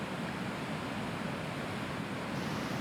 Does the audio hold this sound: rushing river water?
yes